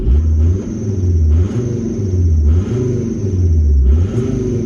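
A car engine revs up and down repeatedly in a steady rhythm, loud and close, with a deep rumbling tone.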